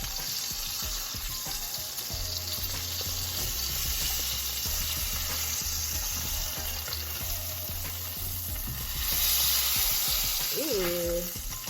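Food sizzling and frying steadily in a pan with butter, a continuous loud crackle with small clinks as the piece is flipped partway through; faint background voices.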